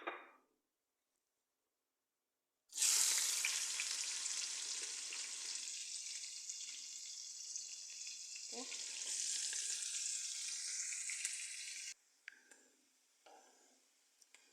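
Onions fry in a pan with garlic and green chillies, a bright, close, steady sizzle that starts abruptly after a short silence, holds for about nine seconds, then drops to faint crackles.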